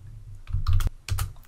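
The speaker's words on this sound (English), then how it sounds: "Normally, if you are typing text in a cell" Close fingers typing on a computer keyboard, two short bursts of crisp key clicks separated by a brief pause.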